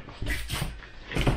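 A cabinet door on a trailer being rebuilt swings open, giving a couple of short, close knocks and creaks with a louder bump near the end, and no talk over it.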